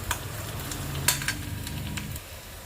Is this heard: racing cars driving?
no